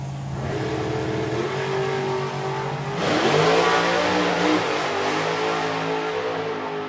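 A supercharged drag racing car roars down the strip, its engine note rising steadily and surging louder partway through, a loud, continuous engine roar with no talk.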